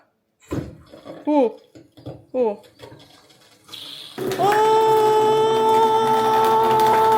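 Water gushes steadily from a newly connected tap in a house being renovated in Hokkaido, Japan, a loud continuous rush that starts abruptly after clunks and a voice, then runs alone.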